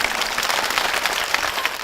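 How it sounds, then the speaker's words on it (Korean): A church congregation at Suwon Myungsung Church applauds a guest swimmer with a brief, dense burst of clapping, steady and fairly close. "여러분 박수 부탁드립니다."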